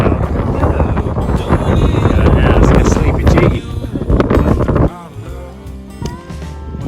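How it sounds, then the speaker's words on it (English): Moderate wind gusts across a mountain trail near Lawson Lake on the Great Divide Trail, buffeting the microphone loudly with a steady roar that eases toward the end. "moderately windy."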